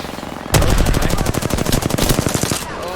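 Rapid automatic gunfire from a battle royale video game firefight, a loud continuous burst of closely spaced shots lasting about two seconds before cutting off, with no talk over it.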